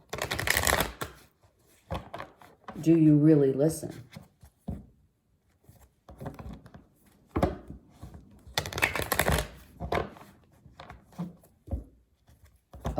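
A deck of cards is riffled and shuffled in several crisp, close bursts between quiet stretches, with someone speaking in between.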